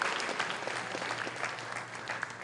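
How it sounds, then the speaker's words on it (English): An audience claps steadily, a dense, even burst of applause with no pauses. "let's give all four of these people a nice round of applause"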